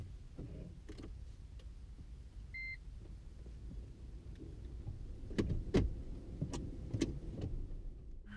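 A 2011 Toyota Prius hybrid idles and rolls with a low rumble, short electronic beeps, and scattered mechanical clicks and knocks growing busier toward the end.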